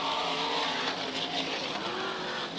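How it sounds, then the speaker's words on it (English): NASCAR modified race cars roar as a pack comes off turn four at Tri City, a dense blend of engines heard from a distance, steady and loud throughout. "The whole group of cars work off of turn number 4."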